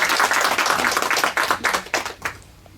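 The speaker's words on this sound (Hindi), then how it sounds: "एक बार जोरदार ताली हो जाए हमारे ग्रैंड फिनाले के लिए" A studio audience at a quiz show's grand finale claps in a quick burst of applause, loud and close, thinning into a few separate claps before fading out.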